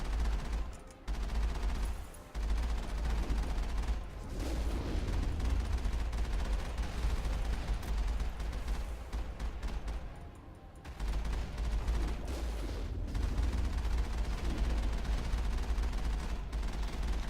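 Sustained rapid gunfire from Geth enemies in the video game Mass Effect, loud and continuous with dense bursts and brief lulls, no talk over it.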